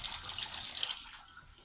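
Tap water runs steadily into a sink while dishes are washed in a home kitchen, a close hissing splash that fades and thins toward the end.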